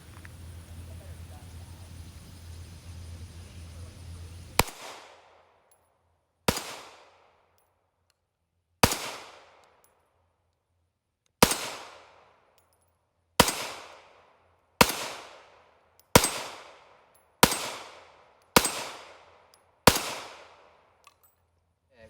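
Ten sharp pistol shots of defensive loads crack out at irregular intervals, each followed by a brief decaying echo, from a SIG P365 XL-type compact handgun at a range.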